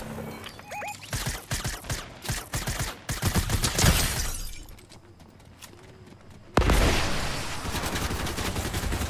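Gunfire from the video game Fortnite crackles in rapid bursts, dense and loud, then fades into quieter rustling before a sudden loud blast and continuing rumble.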